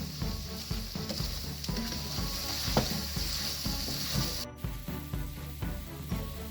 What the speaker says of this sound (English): Keep sauteing the liver until it becomes dry.